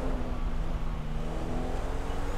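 Driving-school cars in the video game GTA 5 hum and whir past on a city street, a steady, close engine drone with no break and no voices.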